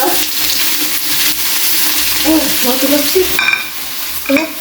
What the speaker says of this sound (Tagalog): yan po sila yan po yung nagpiprito na ng hotdog